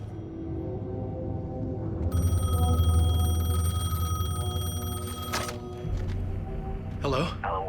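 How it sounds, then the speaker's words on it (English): A telephone rings in the video game Alan Wake 2, its bright, steady electronic tone holding for a few seconds over a low droning ambience, then cutting off before a short burst of other noise. "phone was ringing"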